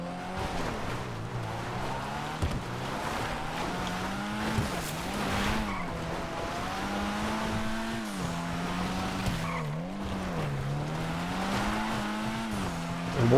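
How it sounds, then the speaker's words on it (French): A Uranus Lozspeed, modelled on a Sierra RS, in GTA Online runs its engine and turbo with a steady, rising and falling drone through the whole stretch, with tire squeal and skidding mixed in as it is driven hard. "Le bruit est cool. On entend bien le turbo."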